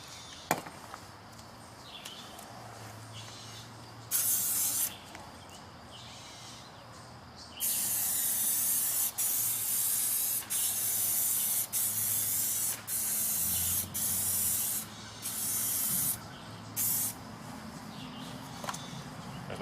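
A spray gun lays a first coat of clear coat onto a car panel during scratch repair, in repeated loud bursts of hissing spray separated by short pauses, close up and with no talking.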